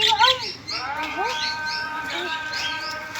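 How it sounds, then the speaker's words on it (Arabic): Pet finches kept on a rooftop chirp and twitter in a busy chorus of short, high tweets, close and continuous, with a brief voice near the start. "والعصافير هي دي اللي طلعوا اهو"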